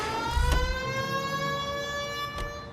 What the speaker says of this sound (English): My siren was on